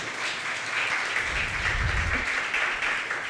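A church congregation applauding, a steady wash of many hands clapping together at moderate distance, sustained and even with no talking on top.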